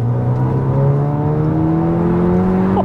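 A tuned, fully built 600+ bhp Skoda Superb with a DSG gearbox accelerates hard from inside the cabin, its engine note climbing steadily and loudly with a quick gear-change shift as the pitch rises.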